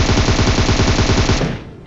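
Automatic rifle fire from the PUBG Mobile battle royale game rattles out in a fast, steady burst of shots lasting over a second before cutting off, loud and close with no talk.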